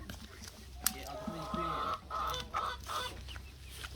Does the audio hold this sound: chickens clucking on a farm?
yes